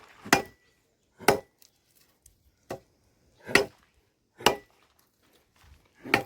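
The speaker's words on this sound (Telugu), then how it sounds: "ఇవన్నీ కూడా జామాయిల్ కర్రలు అనమాట ఇప్పుడు మనకి ఏంటంటే ఇలా చిన్న చిన్నగా కట్ చేయించుకోవాలి" Eucalyptus wood sticks being chopped into small pieces, six or seven sharp, loud strikes at roughly one-second intervals, each a crisp woody thwack followed by silence, no talking.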